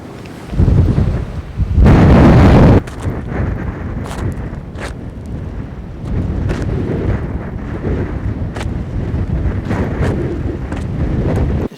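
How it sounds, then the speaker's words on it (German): Strong wind buffeting a roof tent at the North Cape, Norway, a steady loud rumbling roar across the microphone with a very loud gust burst near the start and continuous flapping noise throughout, no voices. "Ich zeige jetzt euch mal kurz,"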